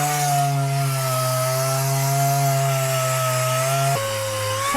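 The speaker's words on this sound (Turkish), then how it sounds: "Arkadaşlar şu anda zımpara işlemi yapılıyor." Car bodywork being sanded at an auto repair shop, a steady loud mechanical whine with sustained tonal hum that holds for several seconds, then drops abruptly in pitch near the end.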